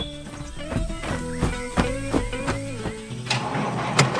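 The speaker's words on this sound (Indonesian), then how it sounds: "Mesinnya berputar, menggumpulkan padi dengan penuh semangat, membuat suasana penuh kehidupan." A green and yellow tractor engine in an animated farm scene chugs with a steady, rhythmic mechanical pulse, close and moderately loud, ending with a few sharper knocks.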